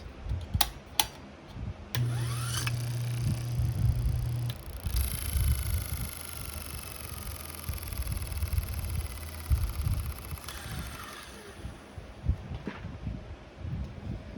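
An antique Delco electric motor running after repairs gives a faint, steady whine for several seconds, mixed with soft thumps and handling knocks nearby.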